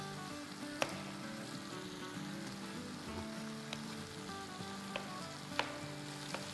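Curry masala sizzles and crackles steadily as it fries in a pan, a quiet close hiss with a few sharp ticks from the spoon and a low, even background hum.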